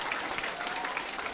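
Audience applause at a live Q&A session, a steady wash of clapping from a crowd at moderate loudness for a short burst with no talk over it.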